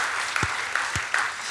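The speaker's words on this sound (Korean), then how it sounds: "우리 축복하고 감사하는 박수 하겠습니다" A church congregation at a Sunday worship service claps in blessing and thanks, a steady, dense wash of applause that holds evenly from start to finish with a few slightly louder swells.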